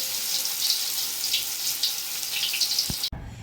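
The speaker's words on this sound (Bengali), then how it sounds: "আমার সব এঁচোড়গুলো একদম একদম ডিপ ফ্রাই করে নেবো" Spiced jackfruit pieces deep-frying in hot oil, a steady loud hiss and crackle that continues throughout and briefly dips near the end, with no talk.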